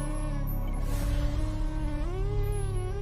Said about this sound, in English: This fly sound.